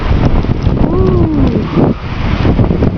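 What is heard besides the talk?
gust of wind during snowstorm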